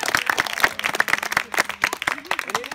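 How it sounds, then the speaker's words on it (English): Parents chaperoning a school science camp get a hearty round of applause, dense clapping from a crowd filling the moment alongside a few voices. "I want to give one more huge round of applause to your parent chaperones."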